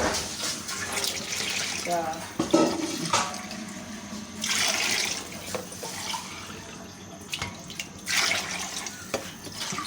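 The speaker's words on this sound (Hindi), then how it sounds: "अब 7 ग्लास और पानी डालेंगे," Glassfuls of water poured one after another into a large cooking pot for beef keema pulao, giving several separate rushing splashes with brief pauses between them.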